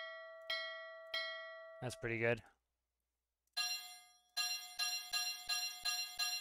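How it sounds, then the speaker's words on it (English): Bell chimes sound in an airliner cockpit in a flight sim game: two single dings, a brief spoken remark, then a quick run of repeated ringing strikes, clear and bright in a quiet cockpit. "It's a bell."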